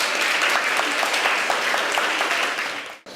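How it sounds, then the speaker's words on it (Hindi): A hall audience at a campus Urdu debate claps loudly and steadily for both teams, a dense wash of applause that carries on and then cuts off abruptly near the end. "तो दोनों टीमों के लिए ज़ोरदार सी तालियां हो जाएं"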